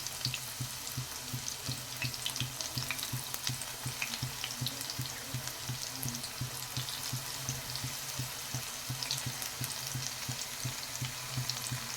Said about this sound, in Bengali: এখন মিডিয়াম আছে উল্টে পাল্টে ভাজব পেঁয়াজিগুলো